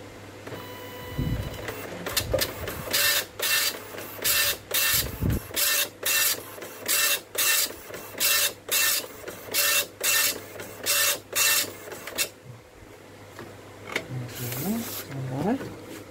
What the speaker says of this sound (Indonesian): Kita coba print default dulu ya, manual.